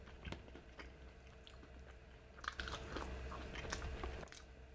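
Close, crunchy bites and chewing of fried okra dipped in ranch during a fried chicken mukbang, with repeated crisp crackles over a steady low background hum and no talking.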